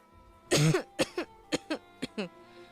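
A boy in a radio drama, ill with a cough and cold, gives one hard cough followed by several shorter hacking coughs, close to the microphone in a quiet room.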